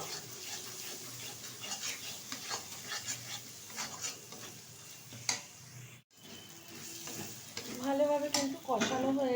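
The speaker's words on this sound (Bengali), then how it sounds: "হাফ চামচ ধনের গুঁড়ো ভালোভাবে এবার কষিয়ে নেব" Chicken for chicken kosha frying in a pan with cumin and coriander powder while being stirred: a steady close sizzle broken by scraping spatula strokes, growing louder and busier toward the end.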